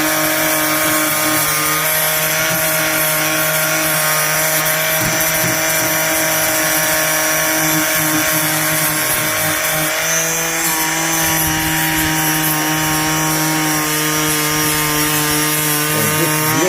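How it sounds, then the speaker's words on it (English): An abrasive flap disc on an angle grinder roughs out the shape of a workpiece, a loud continuous high-pitched whine with steady grinding rasp, close up and unbroken for the whole stretch. "Got flap disc. I use different flap discs. This one's quite abrasive at the minute"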